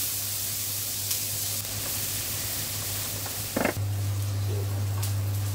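Cumin and onions hit hot oil in a pan used for a rohu fish bhuna, producing a steady, close hiss and sizzle over a constant low hum, with a brief crackling burst partway through.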